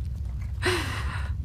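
A single soft snore from a sleeping hairy dog named Frodo: one breathy, rasping inhale lasting under a second against a quiet low room hum.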